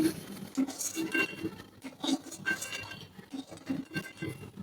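Utensils clink and tap against a pan as fried lentil dumplings are lifted out of hot oil, a series of faint, scattered metallic knocks close by in a quiet kitchen.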